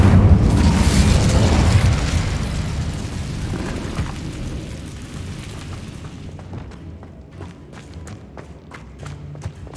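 In Hogwarts Legacy, an Incendio fire spell roars out as a loud, dense burst that slowly fades over several seconds, followed by scattered soft thumps and taps.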